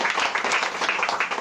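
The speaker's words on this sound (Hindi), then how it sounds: "ताली बजा सकते हैं घटना के लिए।" Members of a church congregation clap their hands together in a brief, dense burst of applause, close and lively throughout the short moment.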